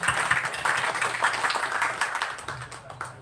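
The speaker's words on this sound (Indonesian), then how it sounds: "Tepuk tangan dulu untuk Pak Panggah." Audience at a Banyumasan community association anniversary gathering applauding an honored guest, an artist: moderate, dense clapping from a crowd, continuous and fairly even, tapering slightly toward the end.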